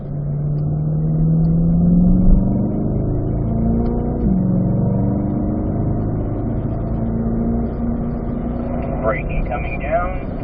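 A motorcycle engine circles a race track along the top of a banked bowl, its steady, loud drone holding near one pitch with small rises and falls, plus a brief higher whine near the end.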